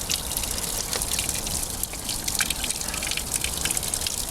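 Cold spring water trickles from a granite crack high on a mountain, a steady close splashing and dripping that stays loud and unbroken throughout, with no voices.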